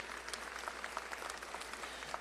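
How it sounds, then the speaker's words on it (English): Audience applause at a McAllen High School graduation ceremony in 2024, a steady, fairly faint wash of clapping from a large crowd lasting throughout. "Could we have a round of applause for those folks too,"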